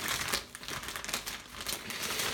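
Plastic wrapping around Revell 1/24 '56 Chevy Custom model kit parts crinkles and rustles continuously up close, with irregular crackly bursts as it is pulled open.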